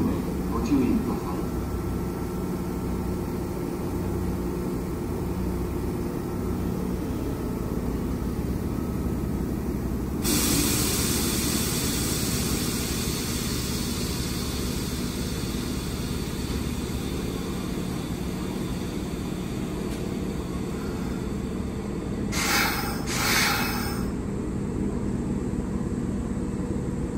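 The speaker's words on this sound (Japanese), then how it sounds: "電車が参ります。" A Kintetsu 8810 series train pulls into Shintanabe station with a steady, loud rumble throughout. A brighter hiss of wheels and brakes swells partway through, and voices are heard in the background.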